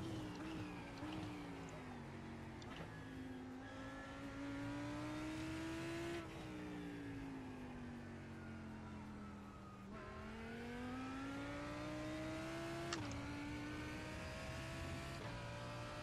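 Race car engine in the iRacing sim, droning continuously with rising and falling pitch through gear changes, revving up and down steadily for the whole stretch, loud and alone without talk.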